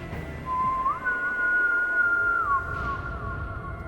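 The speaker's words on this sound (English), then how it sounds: "And it was a whistle, very loud in my ear." A loud, close whistle holds one pitch, steps up higher for about a second and a half, then drops back, over a faint hiss in a quiet space.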